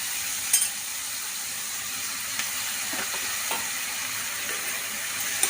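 Dried prawns and chopped tomatoes frying in a pan, a continuous even hissing sizzle with a few faint clicks of a utensil, steady and close with no talking.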